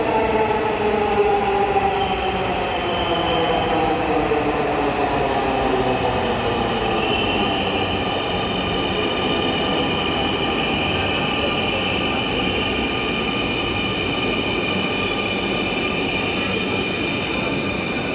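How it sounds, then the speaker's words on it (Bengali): A metro train pulls into Kazipara station on the Dhaka metro rail, with a loud, steady rumble and rising and falling tonal whine of wheels and motors, close by and continuous, with no talk. "ট্রেন চলে আসতেছে।"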